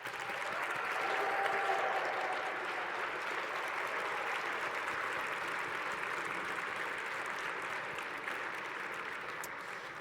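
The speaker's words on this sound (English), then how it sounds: "Let's thank them with a loud applause for all of their work on your behalf." Sustained applause from an audience at a FIRST robotics competition event thanking its volunteers, broad and even clapping from a large crowd in a hall, swelling early and then holding steady before easing slightly toward the end.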